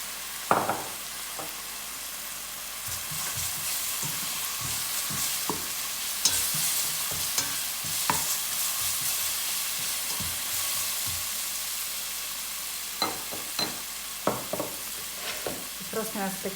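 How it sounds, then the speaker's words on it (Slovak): Onion with a little leek sautés in a pan, a steady close sizzle broken by repeated scraping stirs and occasional knocks of the utensil against the pan, continuing for a long stretch without talk. "A necháme cibulku teniť. Ja tentokrát pridám aj trošičku poru."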